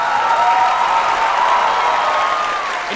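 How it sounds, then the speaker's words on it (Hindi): A studio audience on a Pakistani TV comedy show applauds and cheers steadily, a dense, even wash of clapping from a large crowd that holds for the whole moment. "इन्हीं तालियों की गूंज में"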